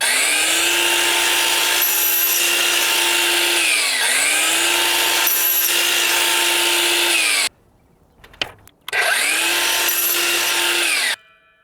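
Two long bursts of a whining power saw biting through wooden baseboard, loud and close, separated by a short pause with a few clunks, then a third cut.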